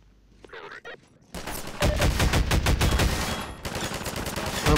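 Sustained rapid machine gun fire from Half-Life 2 in the Ravenholm level, loud and dense, bursting in after a brief quiet start with a few faint clicks and continuing without a break.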